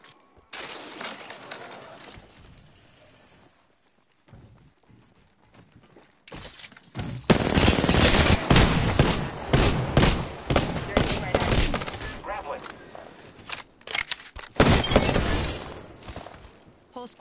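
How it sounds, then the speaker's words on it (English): Rapid bursts of automatic gunfire and sharp single shots crack loudly through a PS4 video game firefight, packed densely in the second half with brief gaps and some shattering impacts, under occasional talk. "Contact. I am taking fire, friends."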